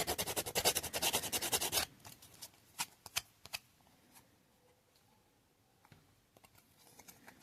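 Sandpaper rubbing down excess plastic on a General Lee model car gives quick, rhythmic scratchy strokes, close and fairly loud for about two seconds, then trailing into scattered faint taps and scrapes.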